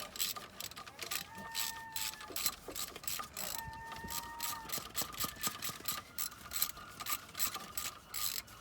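Socket wrench ratcheting on a rusted bolt during a track car engine teardown, a quick run of close, crisp clicks in bursts with faint squeaks between them.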